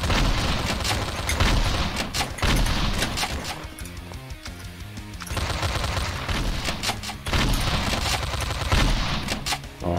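Loud, rapid gunfire from the first-person shooter Slendytubbies 3 in infection mode, dense bursts of shots rattling almost continuously with brief lulls, no talk over it.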